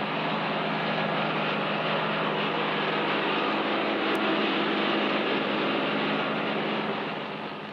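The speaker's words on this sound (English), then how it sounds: "Listen to that engine." A heavy Ford tractor engine drones loudly and steadily without pause, a continuous powerful mechanical roar that fades slightly at the end.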